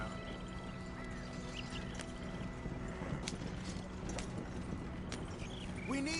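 A horse gallops in Red Dead Redemption 2, its quick hoof clip-clops running steadily with faint mechanical clinks beneath and a brief whinny near the end.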